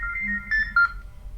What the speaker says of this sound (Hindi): एक मिनट आंटी फोन कर रही है